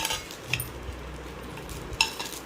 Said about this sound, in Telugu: ఒక జర్మన్ సిల్వర్ పూజా ప్లేటు, 2 ప్రసాదం బౌల్స్, ఒక దీపారాధన ఉంది.